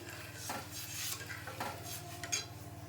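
Rice and water being stirred in a pot, with a utensil scraping and clinking against the metal in quick irregular strokes, close and fairly quiet over a low steady hum.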